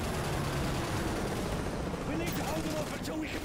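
Rapid gunfire in Call of Duty: Modern Warfare 3 crackles through a busy game soundscape, fairly faint and mixed with other effects and a bit of background voice.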